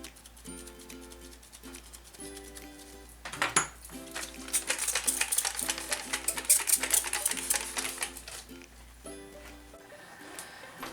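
A knife cuts into a loaf of handmade soap made with coffee grounds, giving a quiet scrape that turns into a louder, grating stretch of crisp cutting and knife-on-board clicks before it fades.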